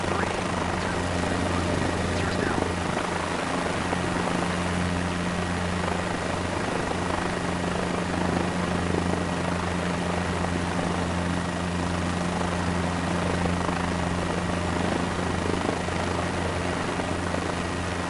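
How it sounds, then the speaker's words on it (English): A helicopter in steady, level flight along the Isar River, heard from inside the cabin as a loud, continuous rotor and engine drone with a low, even throb. "I will give you control of the helicopter"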